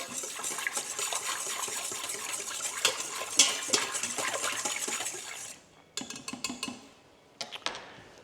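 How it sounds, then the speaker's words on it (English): A whisk clinks quickly against a pot as barbecue sauce is stirred into mustard stock, giving a close, busy metallic rattle that stops briefly and then returns in short bursts. "I'm going to give that a whisk just so that everything's well combined"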